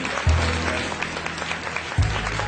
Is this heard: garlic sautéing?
no